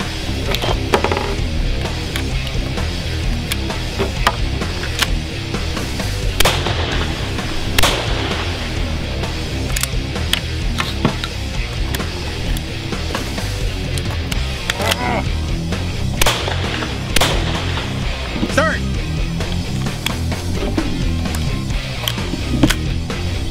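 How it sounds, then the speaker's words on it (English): Over-under shotguns firing at zombie targets in a timed speed round, with repeated sharp bangs and reload clatter scattered throughout a continuous, busy, loud mix. "You're gonna load up two, fire on the targets, reload, fire again."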